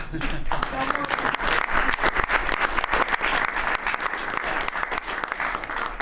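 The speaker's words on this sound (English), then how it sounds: "The press actually broke out in applause." Sustained applause from the press at a presidential Cabinet meeting, dense overlapping claps at steady loudness throughout, close and lively.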